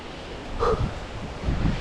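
Gusty wind buffets the microphone with low rumbling bursts, rising and falling over a couple of seconds with no talking, on a mountain climb of Hayden Peak.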